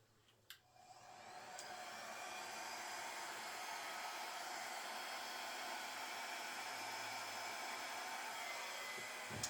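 A hair dryer blows steadily on wet acrylic pour paint, starting with a click and a brief rise before settling into a constant, close whooshing hum that runs until it cuts off at the end.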